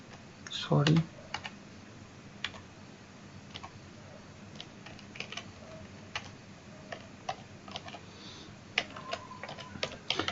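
C code is typed on a computer keyboard in quick, sparse clicks and taps, close by and fairly faint, with a louder knock near the start and a quiet steady hum underneath.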